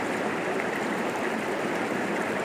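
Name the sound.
river flowing on Dartmoor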